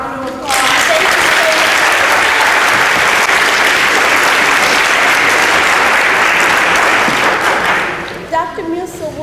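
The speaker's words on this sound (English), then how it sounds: "Can we all give our speaker a round of applause?" Audience applause for a guest speaker at a lecture event, a loud, dense sustained burst of clapping from a large crowd that runs several seconds alone before fading into a few scattered claps.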